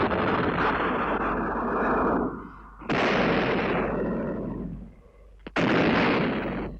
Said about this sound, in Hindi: दोनों ओर से तोपें चलने लगीं।